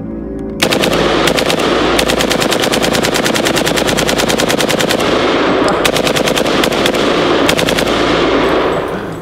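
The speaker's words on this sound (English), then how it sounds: "So let's take a couple of shots." A fully automatic gun fires long rapid bursts of shots outdoors, loud and close, with brief pauses between bursts and no talk.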